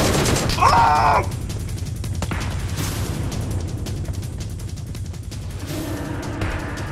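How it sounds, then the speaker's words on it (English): Mobile video game battle with bursts of gunfire and booming explosions, a dense continuous barrage of rapid shots with a brief whistling sound early on and a voice briefly heard. "Who's shooting?"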